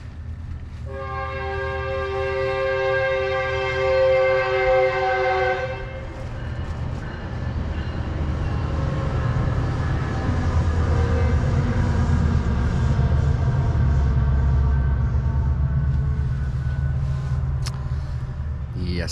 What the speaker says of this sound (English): Had to listen to the train through part of the night and early this morning.